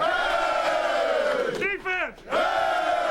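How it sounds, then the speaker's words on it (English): A stadium crowd roars loudly and steadily after a Green Bay Packers vs Dallas Cowboys NFL game, with a brief whooping cry rising above the din before the crowd swells again. "Hey, let's hear it for our crowd."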